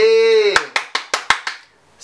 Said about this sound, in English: Snaps, round of applause.